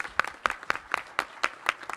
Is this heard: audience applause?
yes